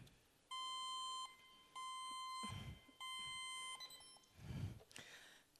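Agricultural field robot giving electronic alert signals, with three sustained steady beep tones repeating at an even pace, followed by softer chirps and some handling and background rumble, fairly faint overall.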